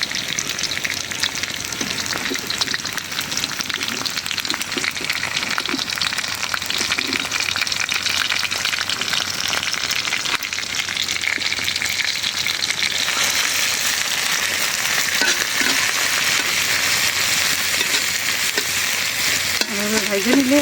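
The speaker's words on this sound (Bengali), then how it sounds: "চিংড়ি মাছগুলো তেলে ভাইজে নেব।" Shrimp frying in oil with a fish paste, a loud, steady, dense sizzle lasting throughout, close by, with intermittent stirring and a slight rise in brightness toward the end.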